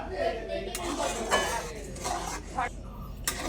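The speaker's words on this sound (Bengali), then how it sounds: "পাতিলেবুর রস দিয়ে এবার আমি আস্তে আস্তে এটাকে নাড়তে থাকবো" Milk being stirred with lime juice in a pot to split it into chhena, with repeated clinks and scrapes of a spoon against the metal pot, fairly close and steady, plus brief louder knocks.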